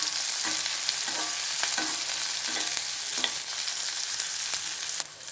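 Chopped onion with red and green chili frying in a pan for a brinjal fry makes a loud, constant close-up sizzle, broken by regular stirring clacks about once a second, and then a sudden drop near the end.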